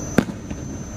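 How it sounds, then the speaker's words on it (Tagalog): One sharp firework burst pops at a distance, followed by a fainter second crack, then a low ambient hum, at the Enchanted Kingdom theme park. "Ganda ng fireworks"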